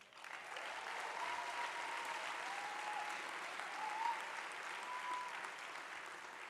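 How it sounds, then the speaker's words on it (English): Steady applause from a graduation ceremony audience at a commencement, a dense wash of clapping sustained from start to finish at even strength, with no voices over it. "each and every one of us deserves a huge round of applause"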